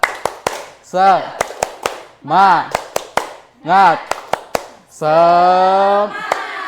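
A school class claps in a rhythmic pattern of sharp, evenly spaced claps, alternating with short bursts of voices chanting together in unison.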